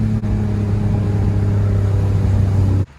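A car called the G, fitted with new headers and a stock or worn exhaust, holds a loud, steady engine drone at high RPM for nearly three seconds, close to the mic, with a brief dip near the start before it cuts off abruptly.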